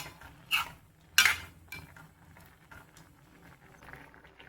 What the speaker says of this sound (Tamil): கரண்டி வச்சு லேசாக கிளறி கொடுத்துக்கலாம்